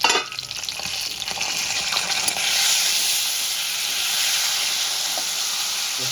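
Eggplant cooking in a covered pan over a low gas flame, a steady soft sizzle and hiss of frying and steam, close and unbroken, with no talking.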